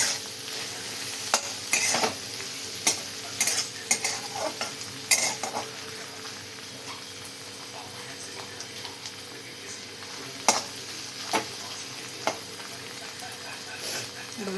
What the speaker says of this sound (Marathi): असं मस्त फ्राय केली मिरच्या आणि चवळी